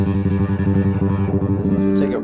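A bass guitar through an EBS Billy Sheehan Signature Bass Overdrive pedal with the tone turned low plays a repeating low riff with a dark, muffled distorted tone, steady and loud.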